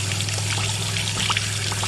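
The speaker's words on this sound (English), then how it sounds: "can you see how clean the water is coming out of there now?" Water pours steadily out of an RV water heater drain as the tank is flushed, a continuous close trickling stream over a low steady hum, with no talking.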